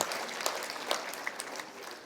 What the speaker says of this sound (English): I want you, the graduates, to give them a round of applause to say thank you